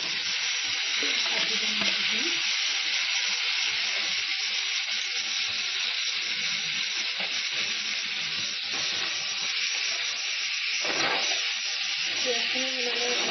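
Meat drops into hot spices and turmeric frying over a low flame, giving a continuous close hiss and sizzle with occasional soft stirring scrapes.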